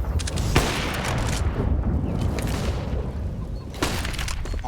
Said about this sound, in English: Molotovs and nades, of course, coming out towards Banana.